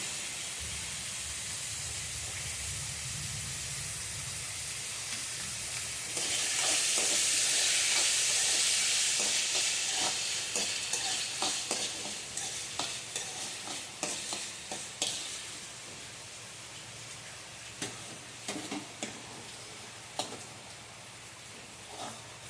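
Tomatoes sauté in a pan with a steady sizzle that swells into a loud steamy hiss, then gives way to repeated scraping stirs and clanks of a spoon, close by.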